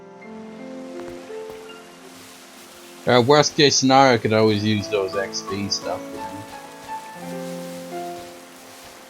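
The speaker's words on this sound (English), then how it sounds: "And now it's raining." Steady soft rain falling in the video game Pokemon Violet, a continuous hiss alongside background game music, with someone talking over it partway through.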